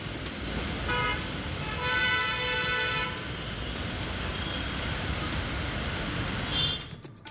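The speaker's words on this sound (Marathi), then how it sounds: "घोडबंदर रोड, नाशिक रोड इथं मोठ्या प्रमाणावर ट्रॅफिक जाम झाली आहे" Traffic is jammed on a rainy Ghodbunder Road, with a thick wash of engine and road noise. Vehicle horns sound several times in overlapping blasts, the longest near the start.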